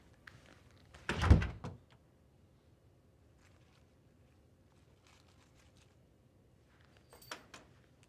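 A door shuts with a solid thunk in a film scene, followed by quiet room tone and a fainter click or knock near the end.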